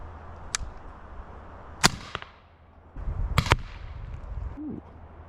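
A Benjamin Airbow, a compressed-air arrow launcher, fires in several sharp, loud cracks with a quick thud of impact, heard close by amid quiet outdoor background.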